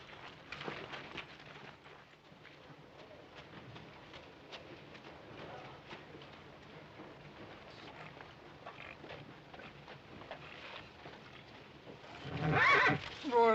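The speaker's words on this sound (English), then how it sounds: "Horse." A horse gives a loud, clear whinny near the end, after a long stretch of outdoor background noise with faint movement in a Western setting.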